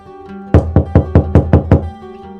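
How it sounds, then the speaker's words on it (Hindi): Someone knocks on a house door: seven loud, quick, evenly spaced raps close by, with no talking around them. "अचानक दरवाजे पर दस्तक हुई।"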